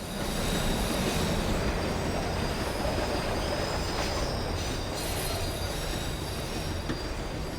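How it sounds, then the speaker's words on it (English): A tram in Max Payne 3 rolls along with a steady, dense rumble of wheels on rails, metallic squeals and faint clicks over a continuous wash of noise as it slows. "The tram was slowing down"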